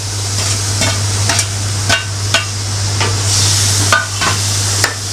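A spoon stirs a dal fry masala mixture of onion, spices and oil in a pan over steady frying sizzle, with sharp scraping knocks against the metal every half second or so.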